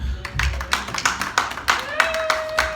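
Scattered handclaps ring out one by one from a church congregation, uneven and fairly close, mixed with some murmuring voices rather than a full round of applause.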